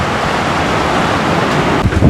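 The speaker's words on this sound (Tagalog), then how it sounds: "Ayun o, yung alon mga kaibigan." Rough surf from typhoon Tino pounds the shore of Canipo island, a steady loud broadband roar mixed with strong wind buffeting the microphone, with a few heavier surges near the end.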